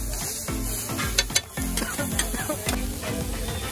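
Oil sizzles on a hot street-food griddle in Noida while vegetables with green chilli and tomato are stirred for a veg kebab roll, with steady frying hiss broken by repeated scraping spatula strokes at close range.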